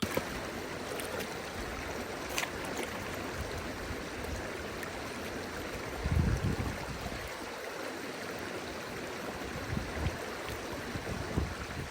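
A Scottish river stream flows steadily with a constant broadband rush of water, close and moderately loud, with a brief louder splash near the middle and no talking.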